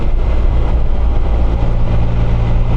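A 2022 Can-Am Spyder RT Limited with a 1330 Rotax engine hums steadily as it rides along, a loud, dense low drone mixed with wind and road noise, no voices.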